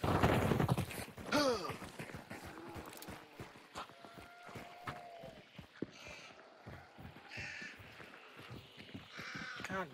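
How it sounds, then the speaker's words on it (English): Crows caw repeatedly in the video game Hunt: Showdown, harsh calls scattered across the scene among footsteps and game effects, with occasional talking. "God damn crows, dude. I'm so tired of these motherfuckers."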